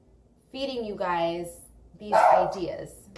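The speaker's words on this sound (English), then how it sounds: "Excuse the barking." A dog barks twice in loud, close bursts while a person keeps talking, the barks cutting across the speech.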